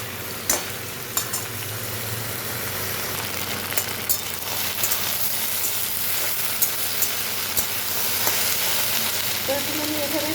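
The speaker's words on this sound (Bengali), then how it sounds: "তো আলুর সঙ্গে ভেন্ডিটা একটু খুব ভালো করে ভেজে নিচ্ছি" Okra and potatoes fry together in a pan with a steady background sizzle, punctuated by occasional sharp clicks and scrapes of stirring.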